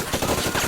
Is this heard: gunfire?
yes